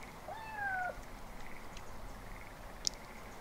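Cats meowing in the video game Yonder: The Cloud Catcher Chronicles, a couple of short rising-and-falling meows early on over soft ambient game sound, followed later by a brief sharp click.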